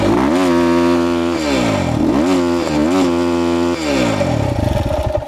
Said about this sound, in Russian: вы выжимаете сцепление и подгазовываете.